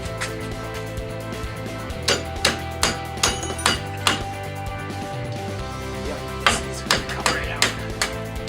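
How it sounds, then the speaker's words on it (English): Hammer striking a transformer after its weld has been cut, a series of sharp metallic knocks in clustered bursts, close and clear over low background noise. "so we cut through the weld, one little bop with the hammer"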